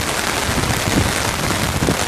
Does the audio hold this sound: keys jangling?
no